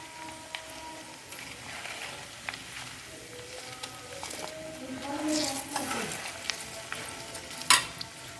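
Herbal hair oil cooking in a pan, stirred gently with soft scraping strokes over a faint, steady sizzle, fairly quiet and close, with a sharp clink near the end.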